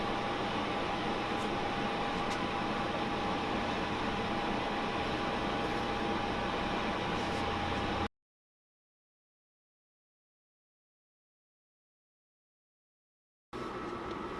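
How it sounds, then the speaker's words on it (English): A conveyor dryer curing white low-cure screen-printing ink runs with a steady, even hum carrying a faint constant whine. It cuts out abruptly for several seconds of silence, then resumes at the same level near the end. "We're going to throw it into the conveyor dryer"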